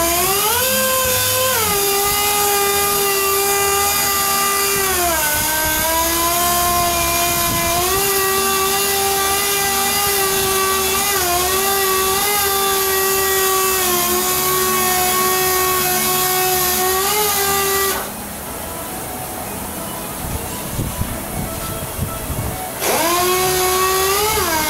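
Wet sanding clearcoat on a BMW 2002 with 1200-grit sandpaper while a steady high-pitched powered whine runs close and loud, wavering slightly, cutting out briefly near the end and then resuming.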